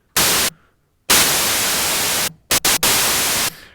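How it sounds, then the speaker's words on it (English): Bursts of harsh white noise from an Arturia MiniFreak synthesizer's noise oscillator switching on and off, a short blast, a longer sustained hiss, then a few quick choppy stutters before another long burst. "At the current settings, it sounds just like white noise."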